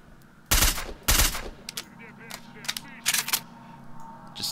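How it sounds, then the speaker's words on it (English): Shotgun fire in S.T.A.L.K.E.R. Shadow of Chernobyl, two loud, sharp blasts about half a second apart, then quieter scattered shots and clicks trailing off. "He has a shotgun."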